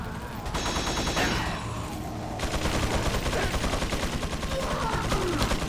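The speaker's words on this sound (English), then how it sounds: "that's actually the turret that's hitting me" Rapid automatic turret fire in Resident Evil 4, a dense sustained fusillade of shots running through the whole stretch, loud and close with a brief shift in tone partway.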